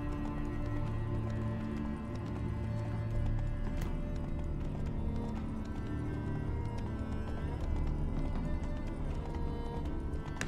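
Horse hooves clip-clopping in The Witcher 3 video game, a steady rhythmic gait with an occasional whinny, moderately quiet over ambient game sound.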